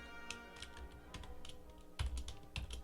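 Code is typed on a computer keyboard, a close, irregular stream of light key clicks with a few heavier keystrokes and no talk.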